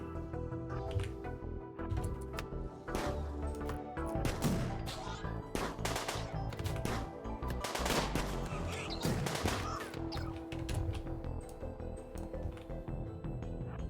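Rapid grenade fire in a RimWorld Biotech battle, a dense stream of sharp pops and bursts layered over busy game noise, steady and moderately loud throughout.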